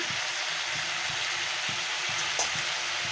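Pumpkin greens fry in a pan without added water, giving a steady, even sizzle that stays at one level throughout and is heard alone.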